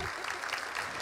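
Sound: applause for the brother-in-law

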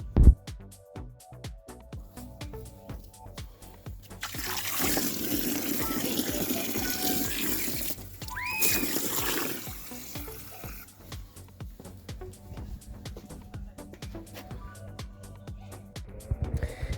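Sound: filling a tub with water for ice bath

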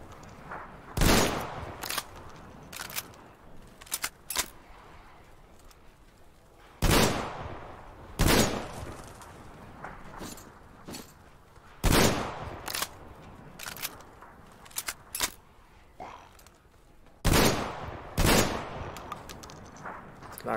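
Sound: weapon gunfire in the video game Metro Exodus

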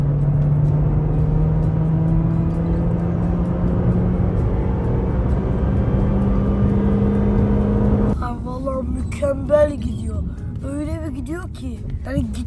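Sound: car accelerating hard, engine revving

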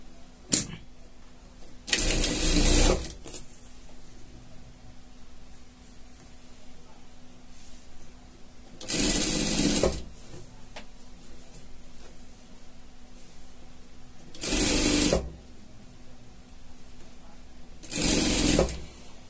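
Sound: sewing machine stitching pet poncho fabric

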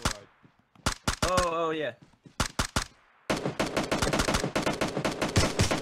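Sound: gunfire in the video game PUBG Mobile

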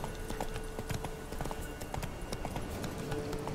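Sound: horse hooves clip-clop in video game

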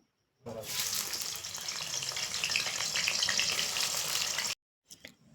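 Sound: oil sizzling in a wok

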